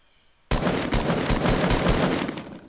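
Fast automatic gunfire in Fortnite, a sharp onset at half a second followed by a close, loud, evenly spaced rattle of shots lasting about two seconds.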